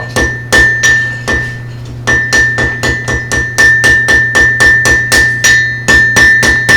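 Blacksmith hammering hot metal to a fine point for a rat's-tail end at a blacksmith event: a steady run of sharp, ringing hammer strikes close by, about three per second, each with a bright metallic ring, with no talk.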